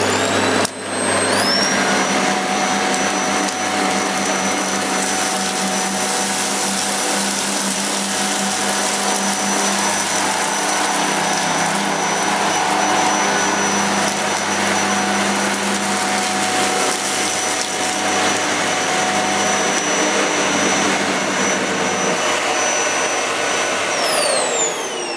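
A Vax Air 3 Max bagless upright vacuum cleaner with its brush on runs steadily at close range, a loud constant whirring roar with a high whine that spins up at the start and winds down at the end.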